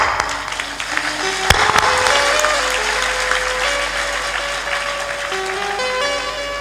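A crowd at a spiritual satsang gathering claps loudly and steadily, a sustained wash of applause with sustained musical notes running underneath it.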